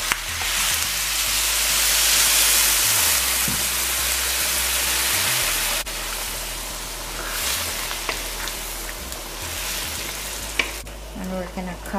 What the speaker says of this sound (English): Now I'll add boiling water.